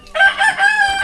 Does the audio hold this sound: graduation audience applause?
no